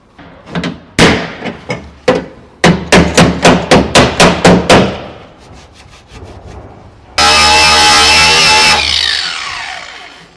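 A hammer and dolly beat the metal body of an MGB car in a closed workshop. Sharp, ringing strikes come in quick irregular bursts, then a loud, sustained harsh noise follows and fades.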